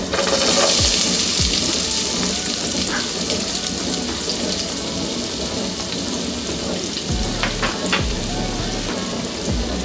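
Sliced green chilies and finely chopped onions sizzle steadily in hot oil in a pan for a cabbage palya stir fry, a dense close frying hiss with a few low thumps and clinks, no talk.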